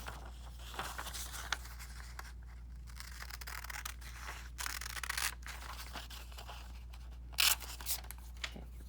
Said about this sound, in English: Now we're going to cut them out and we're going to arrange the trapezoids to form a parallelogram as shown.